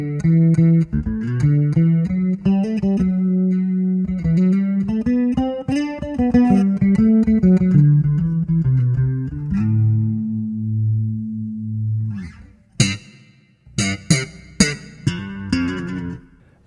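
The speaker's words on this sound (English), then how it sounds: "I'm going to go back and put on some chorus, and I'll bring up the reverb on a separate knob." Bass guitar played through a Roland Cube 100-watt bass combo amp with chorus and reverb on, a loud melodic line of sustained shimmering notes, then a held low note and a few sharp percussive slaps ringing out.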